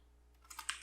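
Short run of keystrokes on a computer keyboard, a handful of close, light clicks in a loose rhythm that builds after a quiet moment, no talking.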